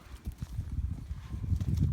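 A horse trots on steady footing in a training session, its hooves clip-clopping in a quick, even rhythm that stays close and fairly loud for the whole stretch, with no voices over it.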